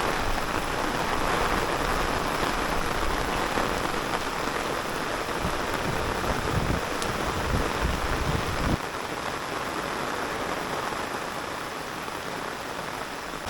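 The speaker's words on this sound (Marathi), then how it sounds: "पाऊस मस्त पडतोय।" Steady rain pours down on a farm field, a dense, even hiss that carries on without a break from start to finish, with no voices.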